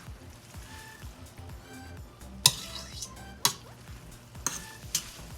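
A simple side dish is stirred in a pan at low level, with soft scraping and faint sizzle punctuated by several sharp utensil clicks against the pan.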